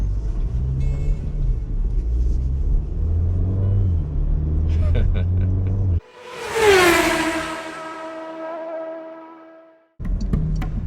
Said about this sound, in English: the 248 horsepower 4-cylinder engine really goes